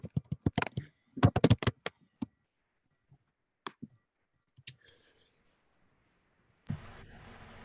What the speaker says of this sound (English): we could hear you typing